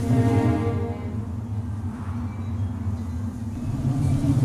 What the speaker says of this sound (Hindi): तूफान आ रहा है